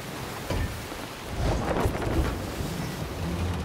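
A thunderstorm at sea in Sea of Thieves rumbles with rain and gusting wind around a ship, rising into a louder thunder burst midway and continuing as a dense, rough roar.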